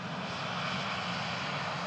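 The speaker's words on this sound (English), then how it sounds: "Planes." A plane's engine roars steadily at Bristol Airport, a loud continuous drone that holds at the same strength throughout with no voices over it.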